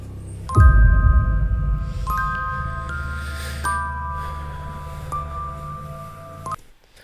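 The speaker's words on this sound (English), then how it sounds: "You can hear the bells on the cat's collar jingling." Small bells on a cat's collar ring out in four separate bright chimes with long ringing decays, spaced a second or two apart, close by against a low rumble with no talk.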